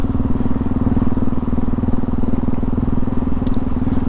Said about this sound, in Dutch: Motor voelt goed.